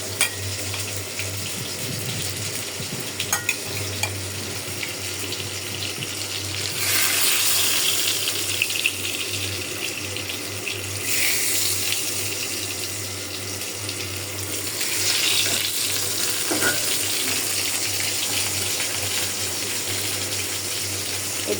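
Fish frying in a pan for a curry gives a steady broadband sizzle and hiss that swells louder in surges around the middle and later, with no one talking.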